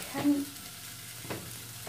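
Cooked pork with onions, garlic and paprika is stirred in a pan for a homemade pork tikka masala curry, giving a soft, steady sizzle with two quiet scraping strokes, close and fairly faint.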